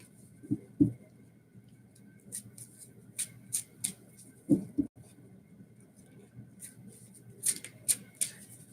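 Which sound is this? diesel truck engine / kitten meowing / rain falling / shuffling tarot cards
shuffling tarot cards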